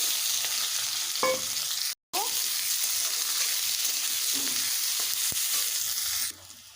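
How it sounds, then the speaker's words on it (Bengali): Chopped onions sizzle in hot oil with bay leaf and whole cumin, a steady close frying hiss broken by a short cut and a few clinks of utensils, with no voices. "দিয়ে দেবো তেজপাতা দিয়ে দেবো গোটা জিরে ফোরনটাকে ভালোভাবে ভেজে নেব দিয়ে দেবো কচানো পেঁয়াজ"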